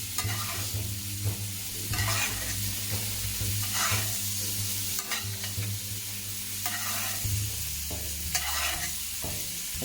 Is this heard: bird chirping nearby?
no